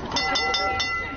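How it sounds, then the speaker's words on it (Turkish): The Taksim–Tünel heritage tram runs along Istanbul's Istiklal Avenue with a steady rolling rumble and rhythmic metallic clacks at regular intervals, near and continuous. "Tramvay Taksim Tünel seferine yeniden başladı."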